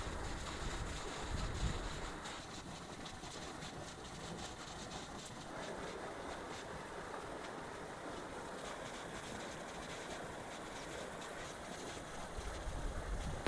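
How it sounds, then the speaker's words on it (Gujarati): Water from an electric motor pump runs along an earthen field channel toward pigeon pea crops. It makes a faint, continuous rushing wash with slight surges and no voices. "આ કેરામાં પાણી જાય છે"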